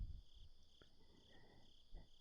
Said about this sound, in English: The crickets, yes. They do shut up when it becomes daytime